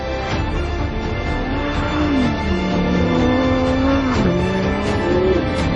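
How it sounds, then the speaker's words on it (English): A Lamborghini Huracán Sterrato drifting around a corner, its engine loud and close, pitch rising and falling as the revs swing through the slide, with a steady roar and no talk. "You drift the car easy around the corner."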